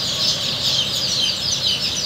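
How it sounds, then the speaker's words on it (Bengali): Chinese duck ducklings on a Khulna farm give high, continuous peeping calls, a busy chorus of many young birds, close and steady with no talk. "বিলাল ভাই, এই হচ্ছে হাঁসের বাচ্চা।"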